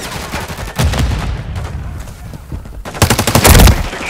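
Holger 26 fire in Call of Duty Modern Warfare 3 on the Rust map, with loud rapid automatic bursts at close range and a heavy volley near the end.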